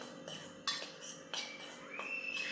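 A spoon scraping and clinking against a bowl while mixing onion and potato bhaji batter, a few separate stirring strokes heard up close.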